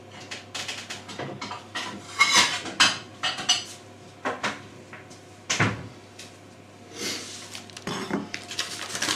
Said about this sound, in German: Jetzt machen wir ein kleinen Teller rausholen